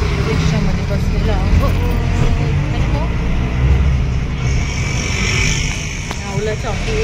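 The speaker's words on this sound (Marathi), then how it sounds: "रिक्षामध्ये बसलेलो" Inside a moving auto rickshaw in city traffic, a continuous low engine rumble and road noise with passing vehicles, while people talk over it.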